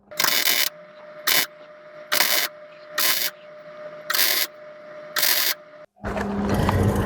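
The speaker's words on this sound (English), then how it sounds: "now I'm gonna weld her up" Tack welding a rust repair patch onto the bedside wheel well of a 1989 Chevy K1500 4x4 truck: six short, evenly spaced buzzing bursts with a faint hum between them, then a longer continuous buzz at the end.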